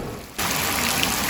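Heavy rain pours down on an outdoor protest in Negros. A dense, steady hiss cuts in abruptly after a brief quieter moment and stays loud and close, with no voices.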